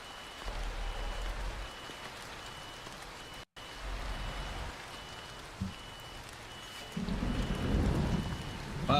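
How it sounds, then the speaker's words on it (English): Thunder in a lightning storm in Euro Truck Simulator 2, with steady rain hiss and low rumbles that swell near the end into a louder, closer roll. "Wow, that's some nasty lightning."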